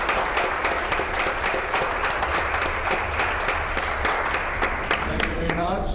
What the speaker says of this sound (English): I think we all need a applause for him